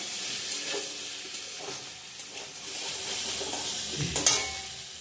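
Paneer goes into a hot frying pan for ghugni, producing a continuous hissing sizzle with a few soft stirring scrapes and a brief louder burst near the end, no speech.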